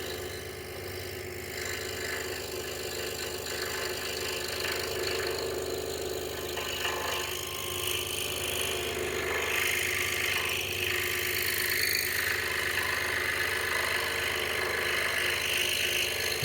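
DeWalt scroll saw steadily cutting through a thick 2x4 board, a continuous loud buzzing motor and blade chatter with a fast reciprocating drone that holds throughout without pause.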